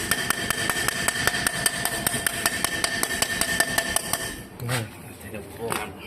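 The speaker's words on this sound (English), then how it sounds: "Get the bigger hammer." Rapid, steady metallic hammer blows on a stuck brake part of a Chevrolet Chevette ring out close by, about three per second, then stop; a couple of scraping knocks and movements follow.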